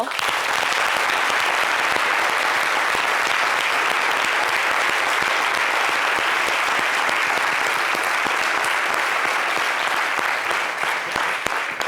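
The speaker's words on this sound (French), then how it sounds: "Donc, on applaudit maman." Studio audience on a television talk show breaking into loud, sustained applause, thick continuous clapping from a large crowd holding steady for the full stretch.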